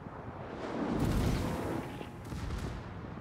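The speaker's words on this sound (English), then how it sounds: "Shots in from the Bismarck." Distant battleship gunfire from the Bismarck in a naval combat game rolls in as a low, rumbling fusillade of muffled booms over a steady background roar, with no talk.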